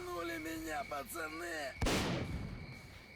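A shotgun fires once in the video game S.T.A.L.K.E.R.: Call of Pripyat, a single loud blast with a fading tail, following a short stretch of talking.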